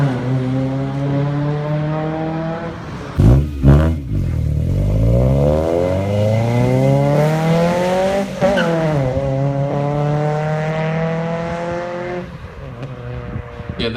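A car engine fitted with aftermarket headers revs repeatedly, its deep, raspy exhaust note rising and falling in pitch, loud and close with no talking.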